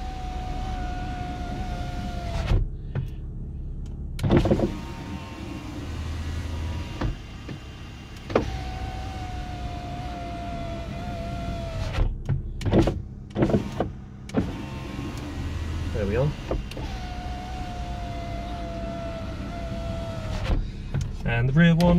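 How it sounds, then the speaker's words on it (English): A Vauxhall Astra G front passenger power window motor whirs in repeated runs of a few seconds each, separated by clunks at the stops and short pauses, with a person talking between cycles. "So we're going to do the passenger window now,"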